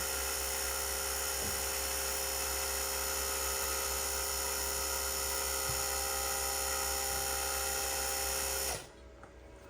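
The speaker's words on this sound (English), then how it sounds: "The pump has turned off." Vacuum pump of a Blue Alpine freeze dryer with a vacuum issue, a loud steady high-pitched mechanical whine and hum running for most of the time, then cutting out abruptly near the end.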